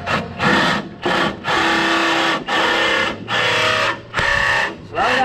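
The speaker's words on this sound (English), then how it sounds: "All right, to drill this hole." A power drill bores a hole while a big motor is bolted into a Late Model race car, whining in several bursts of about a second each with brief pauses between, loud and close.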